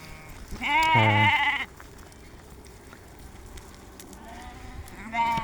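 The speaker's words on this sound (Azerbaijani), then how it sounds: "İndi yerdə qalan bax belə xırda körpə quzulardır." Young lambs and sheep bleat on a livestock farm where the lambs stay with their mothers on pasture: one loud, long, close bleat, a quiet stretch, then another bleat starting at the end.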